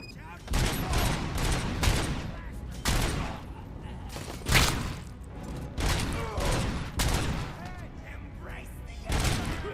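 Heavy gunfire from a big gun in a RoboCop video game, repeated loud bursts of shots in clusters every second or two, with voices talking between and over the volleys.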